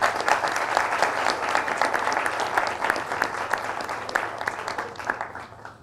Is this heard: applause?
yes